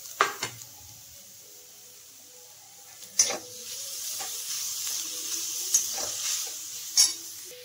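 Grated paneer sizzling gently in a pan as paratha filling, with a faint steady fry hiss broken by a few sharp scrapes and stirring knocks of a spatula, no talk.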